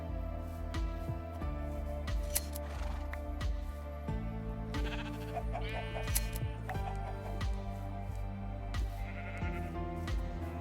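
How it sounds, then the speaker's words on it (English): Blocky Minecraft sheep bleat repeatedly in a flock, their calls close and clear over a steady, prominent game music background. "Wow, there's a whole flock of sheep up here."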